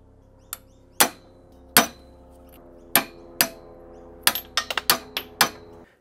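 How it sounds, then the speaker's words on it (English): A hammer strikes a socket to press out a vehicle U-joint, landing about a dozen sharp metallic blows that start slow and spaced, then quicken into a closer cluster. The hits ring clearly over a quiet background. "Once you're all lined up, hammer on the top here. A couple of big blows will start this off."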